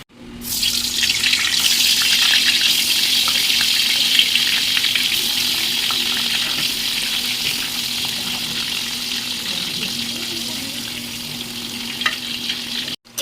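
Chicken cooking in a pan on a home stove, a steady loud sizzle with a faint hum that runs alone for the whole stretch.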